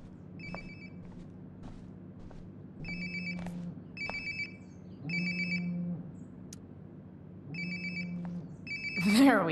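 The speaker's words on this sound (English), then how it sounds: "Sounds like my phone is definitely nearby." A cell phone ringtone in the video game Life is Strange Before the Storm, a repeating electronic ring sounding in five or six short bursts, faint to moderate, with low ambient sound between rings.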